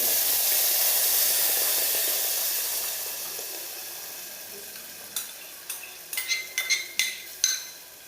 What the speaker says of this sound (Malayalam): ഈ നെയ്യിലേക്ക് 1 സ്പൂൺ നെയ്യ് കൂടി ചേർത്ത് പപ്പായ അരച്ച് വെച്ചത് ചേർത്ത് നന്നായി മിക്സ് ചെയ്തെടുക്കാം